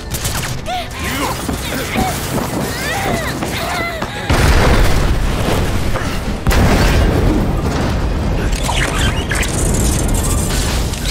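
An explosion in a Final Fantasy game scene booms as heavy, noisy blasts that surge louder partway through and again later, layered over rumbling debris, with voices heard early on.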